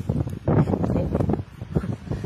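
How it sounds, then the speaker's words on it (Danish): Outdoor wind buffeting the microphone, a loud continuous rumbling roar with uneven gusts, with no other sound standing out. "det blæser lidt meget her"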